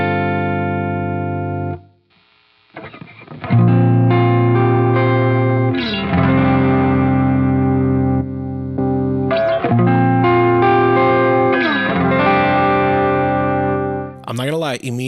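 Electric guitar played through TS808 and ODR-1 overdrive pedals, loud and continuous with sustained distorted chords and notes, a short pause near two seconds, then steady riffing with no talking.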